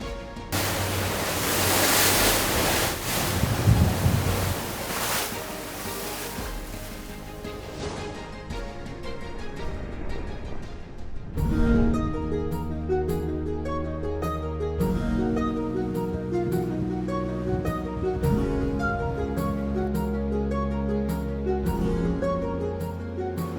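Rough Adriatic sea waves and wind buffet a private yacht off Croatia, a loud, churning roar for about ten seconds before music takes over.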